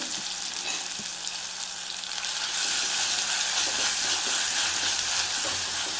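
Crushed ginger, garlic and black pepper sizzling steadily in a Kerala-style fish curry pan, a loud continuous frying hiss that grows denser halfway through, with faint stirring scrapes and no talk.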